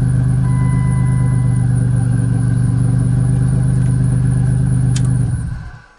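A 1999 Dodge minivan with a distributor ignition runs at a steady, loud idle just after starting, its low engine rumble holding evenly before cutting off abruptly at the end.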